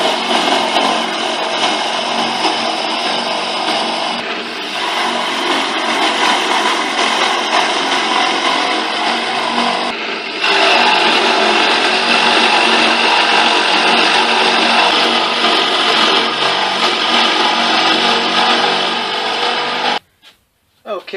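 A power drill runs continuously and loudly, boring counterbore holes for lag bolts into wood with a steady grinding whir, briefly easing midway before stopping near the end.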